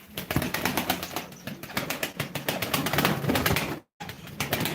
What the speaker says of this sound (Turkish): Kuşlar hep uçup oynayan kuş.